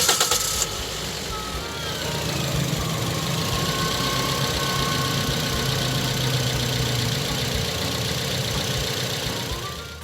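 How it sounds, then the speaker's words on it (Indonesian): A 2008 Toyota Yaris S with automatic transmission idles steadily at close range, a constant mid-pitched engine hum with faint whine after a brief noise at the start, with no talking. "gue bakal nyalain mesinnya biar kalian bisa dengar suara mesinnya"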